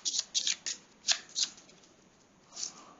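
Playing cards for the board game COIN People Power are riffled by hand in several quick, crisp bursts, close and quiet, with short pauses between shuffles.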